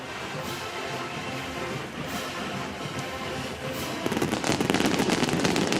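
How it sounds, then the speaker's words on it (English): Fireworks bursting at a college football stadium in Los Angeles before a Wisconsin versus USC game, heard as distant crackling pops under crowd noise, turning into a dense, louder rapid crackle in the last couple of seconds. "And with the fireworks behind us, welcome everybody."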